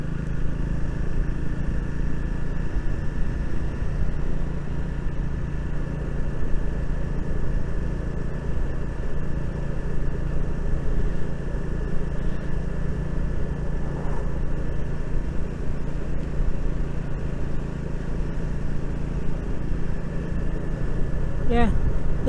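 Triumph Speed 400 motorcycle engine humming steadily while riding, a constant low drone mixed with wind rush throughout, with a rider's voice talking over it.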